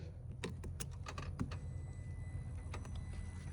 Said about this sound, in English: I hear the throttle body, the electronic throttle body, which is normal on these.